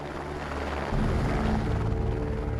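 A helicopter on a mountain film set thrums steadily and loudly throughout, its rotor chop and engine drone filling the air, growing slightly heavier partway through.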